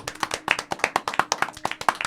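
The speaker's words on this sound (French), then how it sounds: "Et puis, on applaudit même dans le chat, on applaudit s'il vous plaît." An audience claps at the close of a French talk, a quick, dense series of sharp, uneven hand claps close by, with no voices over them.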